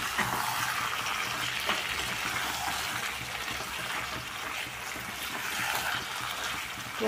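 Meat simmering in a pan while being cooked down until deep red, a steady broadband sizzle with faint watery bubbling holding an even level throughout, no voices.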